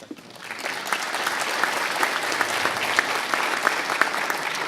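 Sustained applause from an audience at a fire academy graduation ceremony for recruits in Hampton Roads, a steady dense wash of many hands clapping that swells in at the start and holds loud and even throughout.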